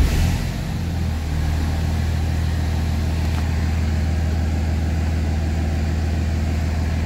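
A 2006 Cummins diesel truck drives on a test drive, its engine producing a steady, heavy low drone heard from inside the cab, loud and even after a brief opening surge, with no talking.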